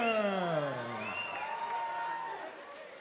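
A cage-fight crowd at the Chosen Few Championships cheers and whoops loudly as a fighter is introduced, with voices rising in pitch and the roar continuing steadily before easing slightly at the end.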